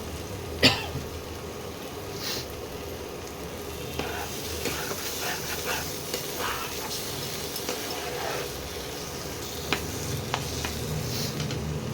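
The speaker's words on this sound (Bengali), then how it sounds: "এরকমভাবে মশলাটা কষিয়ে নিতে হবে" Masala being stir-fried in oil for a parshe fish and tomato curry, with a steady close sizzle under repeated scraping strokes of a spatula and one brief cough near the start.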